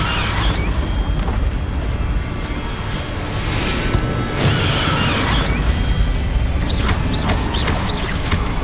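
A Confringo blast spell explodes in the Hogwarts Legacy video game amid a loud, continuous roar of booming impacts, crashes and whooshing effects that fills the whole stretch without a break.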